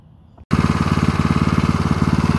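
Small engine of a vintage mini bike starting up and idling after carburetor and muffler work, a loud, steady chugging putter with an even rapid pulse, close by and without voices.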